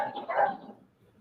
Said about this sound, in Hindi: कुत्ता भौंक रहा है मेरा